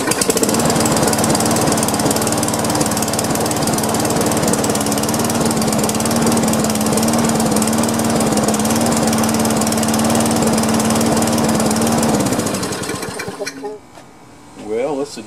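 A Toro Recycler lawn mower with a Tecumseh engine runs loud and steady at close range with a rattling drone, then cuts out and sputters to a stop near the end.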